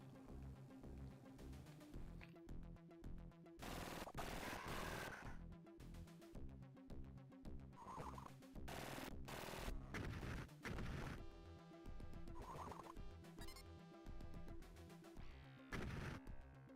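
Gunfire from a Jurassic Park game on the SEGA Genesis: loud, broad bursts of shots and impacts hit in clusters over steady, busy chiptune-style game music, with no talking.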